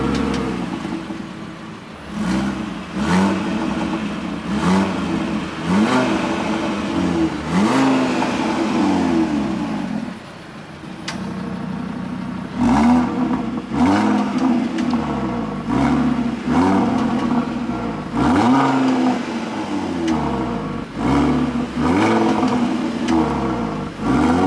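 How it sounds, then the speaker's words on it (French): An Audi RSQ3 with its stock exhaust revs in sport mode: a run of loud throttle blips, each rising and falling, with a short pause partway through. "je vais vous mettre 2-3 coups de gaz en efficiency et en dynamique, donc en mode sport"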